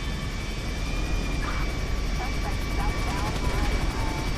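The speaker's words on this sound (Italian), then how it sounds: "Dai che parte quell'aereo là" An airplane taking off in the video game Grand Theft Auto V, a steady, loud engine roar that holds evenly throughout.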